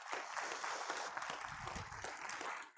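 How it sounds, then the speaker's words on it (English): A church congregation gives a round of applause for the North Posey Vikings football team, a steady, moderately faint spread of clapping with some low murmuring underneath for a few seconds. "give them a round of applause."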